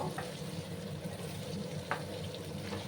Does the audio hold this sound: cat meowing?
no